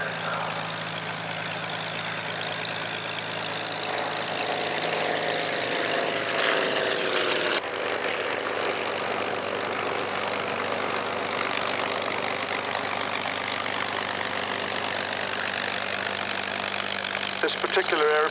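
An Avro T-21 navigation trainer aeroplane, built in 1950 at Yeadon, runs its engine at an airshow. It makes a continuous, steady droning throb for the full stretch, with a slight shift in tone partway through.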